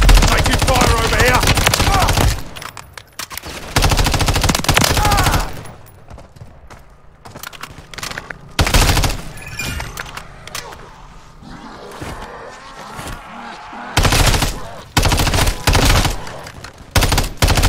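Gunfire in the video game Call of Duty: Modern Warfare 3 Zombies: loud bursts of rapid automatic fire and crackling shots in clusters, separated by quieter stretches with scattered pops and voices.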